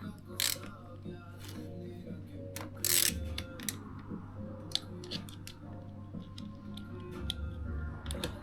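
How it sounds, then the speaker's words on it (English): Hand tools tighten the upper brake caliper bolt on a Yamaha DT 125 motorcycle during restoration: soft metallic clicks, scrapes and ratcheting taps in irregular bursts, close and fairly quiet, with a low background hum. "time to put on the upper bolt"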